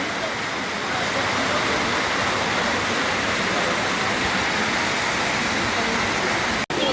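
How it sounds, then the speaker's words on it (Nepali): A waterfall in full flow near a river crossing by Dupcheshwor Mahadev temple pours with a loud, close, unbroken rushing roar, steady throughout apart from a split-second dropout near the end. "मस्त पारामा झर्ना।"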